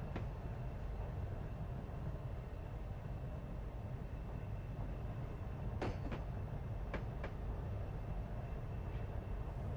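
Freight train on the Monongahela Railway in Train Simulator, heard from inside caboose 210 a mile behind the locomotive: a low continuous rumble with a few sharp clanks, fairly quiet and steady.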